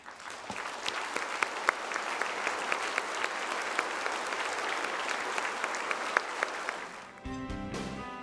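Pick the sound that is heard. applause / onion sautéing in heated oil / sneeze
applause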